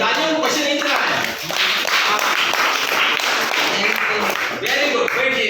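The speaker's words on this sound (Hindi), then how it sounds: "सभी तालियां बजाइए।" A ninth-grade class breaks into loud, sustained applause for a student's correct answer, many hands clapping in a dense, uneven patter close by, with voices mixed in.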